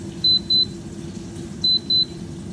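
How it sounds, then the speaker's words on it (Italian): A Proscenic T22 air fryer beeps four times in two quick pairs, short high-pitched tones over a low steady hum. "la macchina ha fatto un bip bip bip bip"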